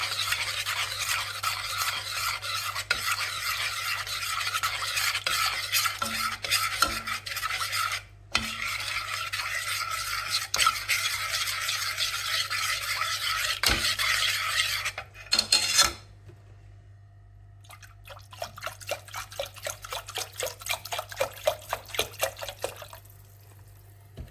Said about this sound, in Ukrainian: інша рука зайнята перемішуванням